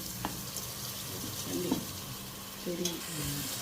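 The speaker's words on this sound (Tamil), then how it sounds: "இப்போ தக்காளி போடுறோம் மூணு தக்காளி" Three tomatoes dropped into a hot frying pan for prawn biryani give a low, steady sizzle, with a few soft clinks and stirring scrapes of a spoon against the pan.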